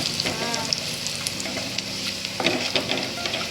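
Chili and garlic sizzle and crackle steadily in a hot pan while an aubergine and potato sabzi is cooked, a continuous close frying hiss with small pops and a few faint clinks.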